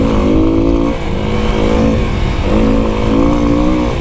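A Kawasaki KLX300 dirt bike ridden at high speed across open desert roars with a loud, steady engine drone, its pitch dipping briefly as the rider shifts before pulling again, all under heavy wind rush.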